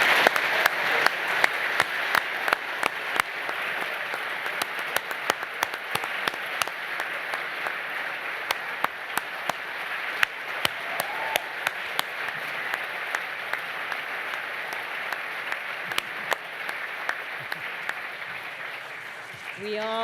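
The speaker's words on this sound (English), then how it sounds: "please show them your appreciation and give them a round of applause" Sustained audience applause fills an awards ceremony hall, a dense steady wash of clapping with scattered louder claps, lasting throughout without interruption.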